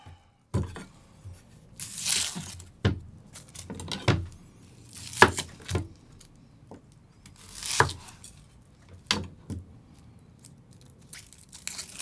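A Hatsukokoro STRIX gyuto kitchen knife cuts through an onion on a board, making close, irregular crisp crunches and knocks separated by short pauses.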